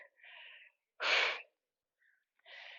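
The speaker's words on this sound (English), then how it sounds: "It's got me breathing hard." Hard breathing after a cardio bodyweight workout comes as a few close exhales: two breathy puffs around one sharper, louder blast of breath, with short silences between them and no talking.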